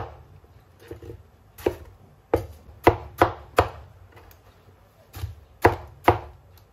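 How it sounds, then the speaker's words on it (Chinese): A knife cuts rind-free watermelon flesh into small pieces on a cutting board, giving about a dozen sharp, close chops at an uneven pace with short quiet gaps between them. "取一块西瓜出来，然后我们把西瓜皮给它去掉，只留西瓜瓤，再改刀给它切成小块"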